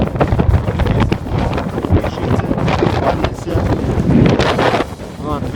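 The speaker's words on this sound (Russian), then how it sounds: "Вот ветер, серьезный ветер." Strong gusts of wind in a southern town roar and buffet the microphone close up, a continuous rough rumble that swells and fades over several seconds.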